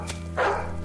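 A dog barks in an audio drama: one short bark followed by a longer, louder woof-like bark, close up, over a steady low hum.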